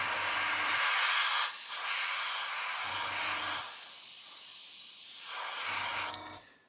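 An airbrush sprays acrylic paint in SCC14 Blue Black in bursts: loud, close hissing blasts, with brief pauses between them where a low compressor hum shows through.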